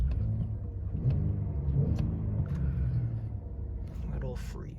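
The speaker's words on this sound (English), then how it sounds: "Turn the hazards off and the fog lights off, and let's give it gas" The engine of a high-mileage car with VVT, started on a winter day, rumbles close by and rises in a few revs while a person talks over it.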